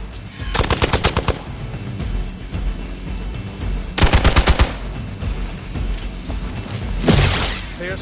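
Gunfire in the video game Marvel's Midnight Suns: rapid machine-gun bursts crackle in three loud volleys, separated by quieter stretches of game ambience.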